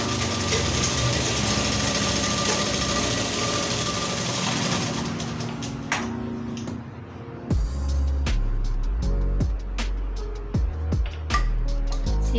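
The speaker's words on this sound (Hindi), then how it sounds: "हमें ऐसे रख के सिलाई कर लेनी है" A sewing machine stitching a belt salwar runs in a steady, loud, close mechanical whir, then stops and gives way to a few separate clunks and clicks of handling.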